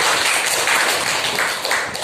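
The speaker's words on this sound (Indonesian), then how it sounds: "Tepuk tangan, berikan tepuk tangan" A classroom full of students gives a round of applause for a group that has just finished its presentation. The steady clapping holds for about two seconds, fairly loud and close, with no talking over it.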